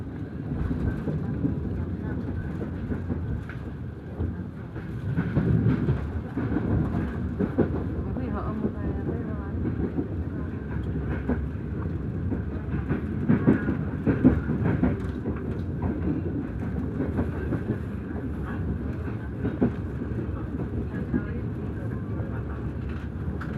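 A steady low rumble of the Matarmaja passenger train being shunted slowly at Pasar Senen station, Jakarta, with faint clanks and scattered voices in the background throughout.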